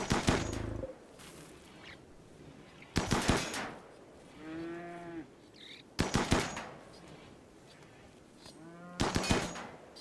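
Gunfire bursts aimed at a bison in the video game RimWorld, recurring about every three seconds as short loud volleys, with a tonal animal-like moan between the second and third bursts.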